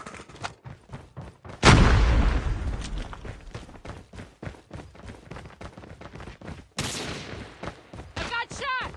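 In a shooter video game, sharp gunshots fire in quick irregular bursts, with a heavy booming explosion early on and another loud blast later, all fairly close and punchy.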